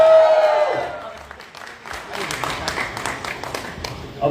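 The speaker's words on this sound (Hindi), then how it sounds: "एक ताली बजा के बता।" A crowd at a reception party and launch of a new Bhojpuri song breaks into dense applause after a voice on a microphone ends, and the clapping carries on steadily to the end.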